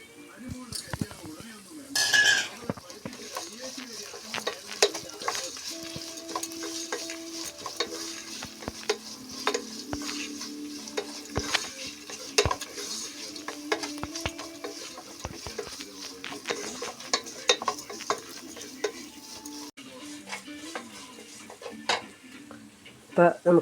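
Green chillies and ginger stir-fry in a hot pan with curry leaves, a soft steady sizzle broken by repeated scrapes and clinks of a spoon against the metal, close and fairly quiet throughout.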